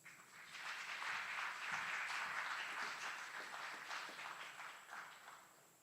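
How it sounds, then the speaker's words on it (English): Applause fills a military graduation ceremony, a broad, steady patter of many hands heard from a distance at low level, swelling quickly and then slowly tapering off, with no talk over it. "Please give him a round of applause."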